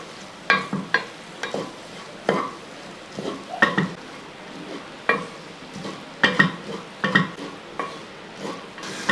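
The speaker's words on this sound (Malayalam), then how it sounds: "ഇനി ഇതെല്ലാം കൂടെ കൂട്ടി ഒന്ന് ഇളക്കി കൊടുക്കും" Spice powders in a frying pan for a Kerala fish masala are stirred with a spoon, giving a series of close scraping strokes and clinks in irregular bursts over a soft sizzle, with no voices.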